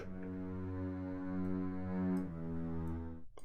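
A bass sustain strings layer from FL Studio's stock strings, centred and dry, plays one continuous low harmonic tone with a single note change partway through, then cuts off abruptly near the end.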